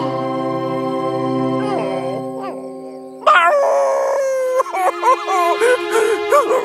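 A cartoon dog howls in long, drawn-out, wavering cries over background music, loud and close, followed by a series of shorter yelping howls.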